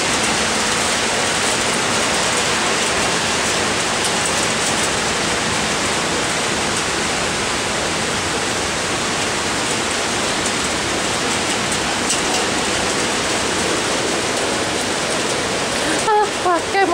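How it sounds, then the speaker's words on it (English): Heavy rain pouring down in Toronto, a loud, dense and unbroken hiss of falling water close by, steady throughout with a few faint knocks near the end. "This is the first day it's properly raining like this."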